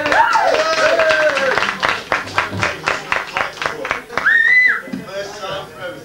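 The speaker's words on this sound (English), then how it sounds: "Round of applause" Applause and scattered clapping from a pub crowd at a live band gig in a barn-style venue, a burst of rhythmic claps rising and fading over several seconds, with voices and bright shouts or whistles mixed in close by.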